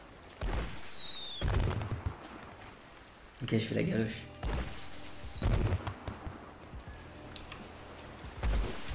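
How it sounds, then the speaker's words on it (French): Fireworks bursting outdoors during a marriage proposal, several separate loud booms with whistling rockets and crackling tails, spaced a second or two apart, while people chat nearby between and over the blasts. "ça dure combien de temps les feux d'artifice là?"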